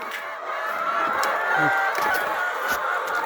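Hens clucking in a coop on a small farm, a busy, continuous chorus of overlapping clucks and brief calls at moderate distance, steady throughout.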